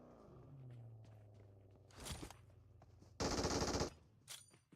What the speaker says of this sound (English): Oh, that MG3.